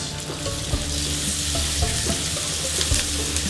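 Tomatoes sizzle and fry steadily in a pan while making seafood pakbet, a continuous crackling hiss with a few soft scrapes of stirring, close and fairly loud throughout.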